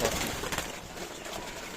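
Pigeons or doves on a small farm in Natore, a flock of about 165 breeding birds, mostly hens, coo and call continuously at moderate distance, a soft overlapping murmur with faint wing movement.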